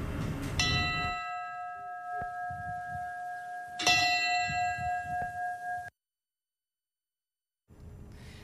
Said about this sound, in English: 13 bell chimes rang out, representing the 10 people killed and 3 wounded in that racially motivated attack.